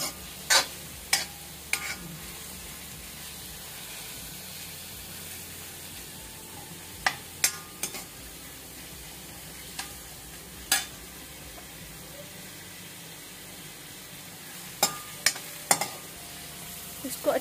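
Grated bottle gourd frying in a pan for kheer, a soft continuous sizzle broken by sharp, sporadic clicks of a spoon against the pan as it is stirred, no talking.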